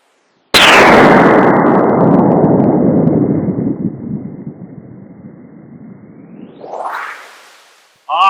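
A single loud gunshot from a Savage Model 24 combination gun's .22LR barrel cracks out and rings into a long fading tail outdoors, followed near the end by a brief sharp onset of a second report from the .410 shotgun barrel.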